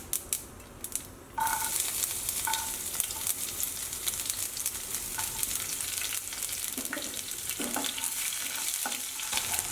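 Garlic sizzles and crackles in hot oil already holding mustard seeds and cumin, after a quieter start, with occasional stirring scrapes, steady and close.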